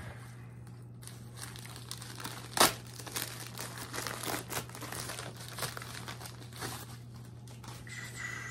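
Comic book packaging being opened, with close, quiet crinkling and rustling of plastic wrap and one sharper crackle, over a low steady hum.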